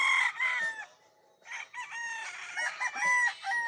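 A bull stag rooster crows close by, a loud, strained cock-a-doodle-doo in two bursts broken by a short pause, with faint clucking, no voices.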